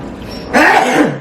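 A single sharp sneeze bursts out close by after a moment of quiet room tone, then fades quickly.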